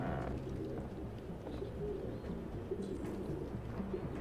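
Pigeons coo softly and repeatedly in the Detroit: Become Human video game, low throaty calls overlapping in a continuous ambient murmur at moderate distance.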